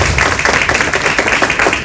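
A conference audience claps in a brief, lively burst, with many hands heard close and fairly loud and no speech over them.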